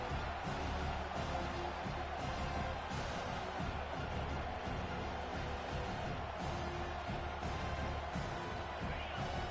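Dense, steady roar of a big stadium crowd at a Big Ten versus ACC college football game, a constant wash of massed voices throughout with no clear peaks.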